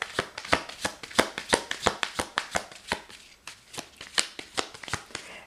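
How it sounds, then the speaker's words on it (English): Tarot cards shuffled by hand in a steady run of crisp riffling snaps, about three per second, close and clear with no voices. "I will shuffle several times if no cards pop out"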